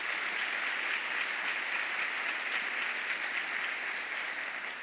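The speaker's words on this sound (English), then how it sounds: "Let's give them a round of applause." A sustained round of audience applause for event sponsors at an awards ceremony, a steady dense wash of clapping that holds evenly throughout with no voices over it.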